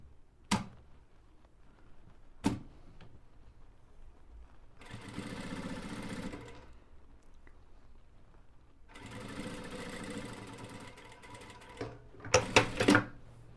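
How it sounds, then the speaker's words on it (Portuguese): Close-up sewing machine stitching a continuous seam on a high-neck blouse: two sustained runs of steady mechanical whirring separated by a pause, with sharp clicks near the start and a brief clattering burst at the end. "giro para poder costurar aqui do outro lado, que daí fica uma costura contínua"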